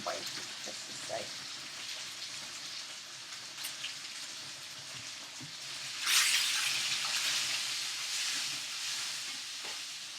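Chicken fries in a pan with a continuous, close hissing sizzle and occasional pops, swelling louder and brighter partway through and staying steady to the end.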